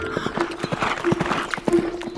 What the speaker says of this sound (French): Et le cheval blanc qui galope face au vent.